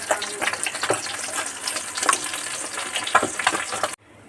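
Fish roe fritters made with a little gram flour frying in hot oil, a steady loud crackling sizzle with scattered pops that cuts off abruptly near the end.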